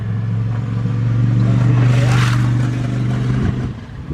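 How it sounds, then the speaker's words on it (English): A noisy engine runs steadily and loud for the whole stretch, with a strong low hum and a slight swell in the middle, on a Ford Capri Cabaret with a loose pulley during timing belt repair. "Noisy bike."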